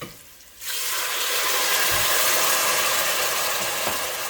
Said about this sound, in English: I'm going to add a bit of water to this.